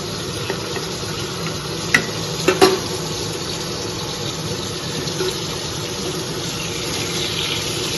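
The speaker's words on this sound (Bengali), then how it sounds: "একদিকে মাছ ভাজা হচ্ছে" Fish frying in a pan of hot oil, a loud continuous hiss and sizzle close by, with a few brief clinks near the middle and no talk.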